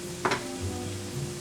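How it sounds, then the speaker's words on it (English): Potatoes and onions cook in a pan, giving a faint, steady sizzle with a brief clatter early on, heard alone without talk. "we'll let these potatoes and onions cook until the potatoes are tender"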